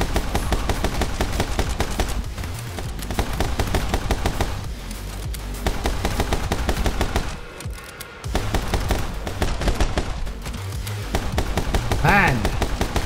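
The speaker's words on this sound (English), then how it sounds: "we are also shooting enemies" Gunfire from enemies being shot in the action game My Friend Pedro, with rapid bursts of shots over loud game music and brief pauses between volleys.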